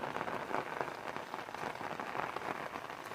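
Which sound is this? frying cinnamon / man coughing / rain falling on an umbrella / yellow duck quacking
rain falling on an umbrella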